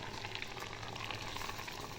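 Banana stem kootu with coconut paste and curd boils in a pot, giving a soft steady bubbling and simmering up close with no voices.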